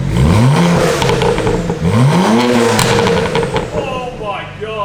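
A BMW 335i with tuned downpipes revs hard up and down in loud swooping sweeps close by, its exhaust crackling and popping between revs, with excited voices talking over it.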